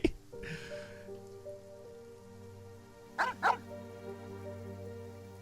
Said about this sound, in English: Why the barking at the cemetery?